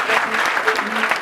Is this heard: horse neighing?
no